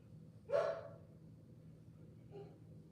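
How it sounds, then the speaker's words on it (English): A single short dog bark sounds faintly in the distance over a low background hum, followed by a softer second yip. "there's a fucking dog barking or something in this fucking house"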